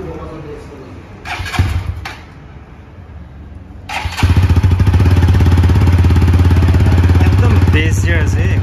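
A 2023 TVS Apache 160 4V motorcycle starts after a few quiet seconds, then settles into a loud, steady single-cylinder exhaust idle close by.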